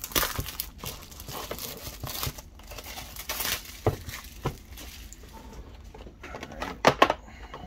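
A 1995 Pinnacle Zenith Edition football card pack being torn open, crisp crinkling and tearing of the foil wrapper in irregular bursts, close up, with a louder rip near the end.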